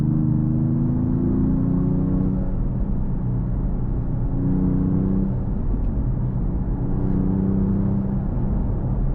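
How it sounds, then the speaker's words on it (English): A 2025 Mercedes-AMG E53 hybrid with a six-cylinder engine rising in pitch through repeated acceleration surges, heard from inside the cabin as a steady, loud engine drone over road rumble, with no talk. "So let's accelerate one more time."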